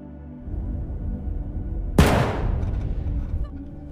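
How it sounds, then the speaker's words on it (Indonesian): A single gunshot effect cracks out sharply halfway through, then decays with a long echoing tail over a low, muffled background rumble. "Terdengar suara tembakan dari ruangan Hitler"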